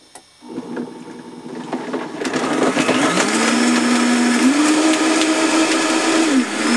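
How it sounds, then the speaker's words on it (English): A Vitamix or Blendtec blender starts up and runs on high, its motor whining loudly and steadily while the pitch climbs once and holds, then dips briefly near the end. "I'm going to put the lid on, turn the machine on, turn it all the way up and up to high."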